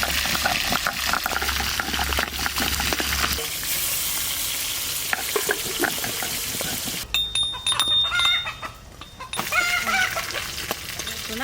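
Spices sizzle and fry in a hot pan while making a spicy Sundarbans river tengra and rita fish curry, a steady crackling hiss with stirring and a brief quieter patch partway through.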